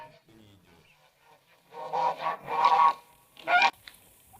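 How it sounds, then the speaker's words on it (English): A goose honks loudly at close range on a farm, three or four harsh calls in quick succession, with a faint sound in the background before them. "The goose swam over,"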